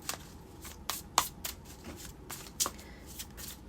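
Tarot cards being shuffled up close, a series of quick riffles and sharp flicks with brief pauses between them, no talking.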